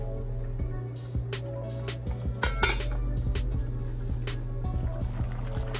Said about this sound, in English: We're gonna close it up and we'll cover the pot with the lid and let it cook for about 30 minutes.